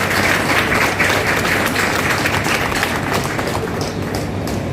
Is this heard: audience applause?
yes